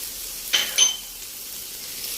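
Liver and gizzards dropped into a pan of softened onions, two sharp metallic clinks followed by a burst of sizzling that settles into a quiet, steady frying hiss, no voices.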